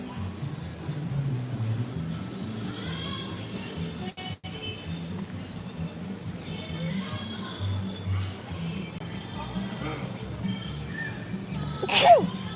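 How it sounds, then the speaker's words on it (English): A sharp, loud sneeze bursts out at the end, following people chatting over background hum. "I always sneeze out here."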